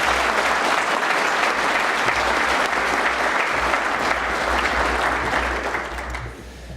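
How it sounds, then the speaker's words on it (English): An audience at a U.S. Naval Institute annual meeting awards ceremony applauds loudly and steadily for several seconds, the clapping dense and continuous before easing slightly at the end. "How about a round of applause?"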